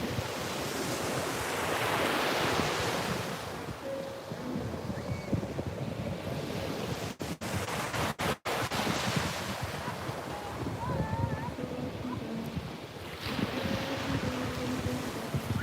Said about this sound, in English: I'm so glad you guys can hear the water too.